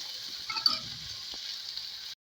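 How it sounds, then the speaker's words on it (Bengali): Snake gourd (chichinga) fries in a pan with a faint, steady hiss and a few light scraping stirs early on, then cuts off abruptly near the end; no voices. "এখানে চিচিং ভাজাটা দেখো হয়েই এসছে"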